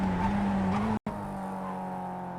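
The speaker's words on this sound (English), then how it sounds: "Hit the brakes and shift down into first gear." A Mazda MX-5 engine in the iRacing sim at Oran Park Raceway drones loudly, cuts out briefly during a hard brake and downshift into first gear, then resumes at a lower, steady pitch with faint tire noise.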